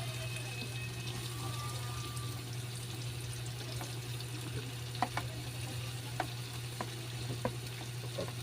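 Onion frying steadily in a pan while chicken teriyaki is cooked, a continuous close sizzle with occasional sharp clicks and scrapes from stirring, with no talking.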